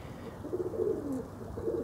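Soft coos of high-flying pigeons rising and falling in a low, steady murmur, several birds close by with no talk.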